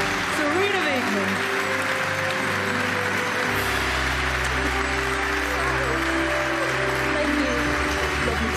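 Applause at a UEFA awards ceremony as Women's Coach of the Year Sarina Wiegman is welcomed, a broad crowd wash blended with music tones and a low rumbling hum throughout.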